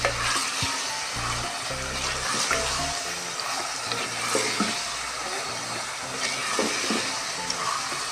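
Meat sizzling and frying in a pan with garlic and ginger for a bhindi gosht dish, a steady close hiss with occasional stirring clinks and scrapes throughout.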